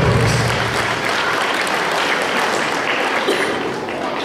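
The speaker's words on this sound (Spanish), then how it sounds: "Tenemos un fuerte aplauso por esta hermosa acción de promover una vida más sana" Applause from a crowd at a rural education day celebration, a dense, steady clapping lasting several seconds fairly close, with a voice faintly underneath.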